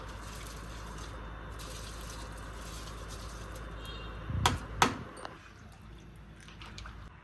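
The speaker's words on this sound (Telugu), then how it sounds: "ఇప్పుడు రైస్ని బాగా స్ట్రెయిన్ చేసేసుకుని వేసేసుకుందామండి" Soaked basmati rice is strained, with water steadily pouring and draining, two sharp metallic clangs of a pot, then a quieter trickle.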